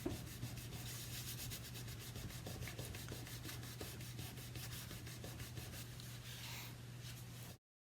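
Steady, continuous rubbing as a paper shape is pressed and smoothed down onto a surface in a first-grade shape-building craft, close and even for several seconds with a faint low hum behind, then stopping abruptly.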